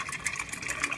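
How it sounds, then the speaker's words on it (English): Milk poured into a jar of kefir grains, a steady close liquid trickle and fill sound lasting about a second, fairly quiet. "And you just get your milk, pour it in"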